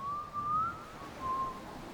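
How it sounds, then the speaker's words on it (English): Someone whistles a soft, wavering melodic line, two short phrases separated by a brief pause, fairly quiet against a faint background. "a whistling is heard."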